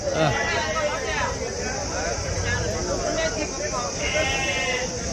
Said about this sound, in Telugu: మంచి పొట్టేళ్ళు ఉన్నాయి